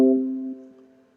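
A computer antivirus security alert chime: a single clear tone that starts abruptly and fades over about a second, alone with no talk.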